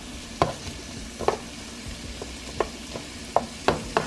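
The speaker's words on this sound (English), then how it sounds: "So guys, we're stirring this around." Shrimp and rice stirred in a pan with a spoon, giving sharp scraping knocks at an irregular beat over a low, steady sizzle, close and fairly loud.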